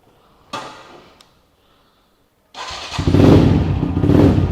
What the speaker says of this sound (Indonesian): ini motor udah lama nih nggak gue panasin